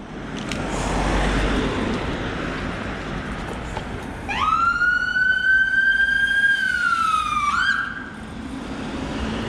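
An ambulance siren wails steadily nearby for a few seconds over rumbling traffic, then cuts off abruptly as it passes.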